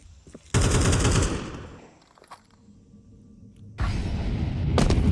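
An AK rifle sprays long bursts of automatic fire in a Counter-Strike match on the Ancient map at IEM Chengdu 2024. Two loud, sustained volleys are separated by a quieter stretch with faint footsteps and scattered distant shots.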